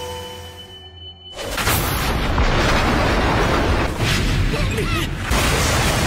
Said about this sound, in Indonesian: terjadilah ledakan besar di dalam rumah